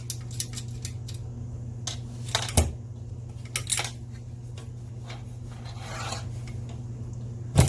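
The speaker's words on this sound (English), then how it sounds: "So let me get the nuts out of the bottom here" Metal tools rasp and scrape while nuts and bolts are worked loose from the underside of a Crack Hybrid BLT RC car, with a low steady hum underneath and a few sharper clicks.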